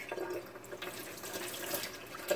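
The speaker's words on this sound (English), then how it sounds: "So we're going to take cold water into the sink." Cold tap water runs into a kitchen sink with a steady, soft splashing rush and occasional gurgles, fairly quiet and continuous, no voices.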